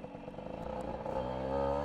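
Kitted 65cc Tomos A3ML moped revving as it does a rear-wheel skid on a road, a buzzy two-stroke engine note rising in pitch and loudness over a couple of seconds with some scraping clatter.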